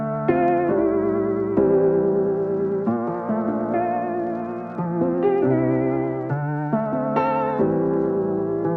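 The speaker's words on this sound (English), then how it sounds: "Flutter essentially adds another very quick wobble sound, so you can get this layered wobble sound." Melodic synth or keys phrase run through the Taper plugin, notes wavering in pitch with tape wobble layered over a faster flutter, steady and close with no voices.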